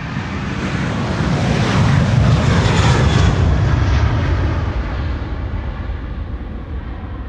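A passenger plane at Amsterdam Schiphol Airport roars loud and steady through the whole stretch, its broad engine rumble swelling to a peak and then slowly easing as it passes, with wind buffeting the microphone.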